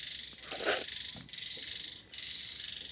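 Frogs croak beneath a room in the rain, a continuous buzzing chorus that rises in one short louder burst, with a brief break before the steady trilling resumes.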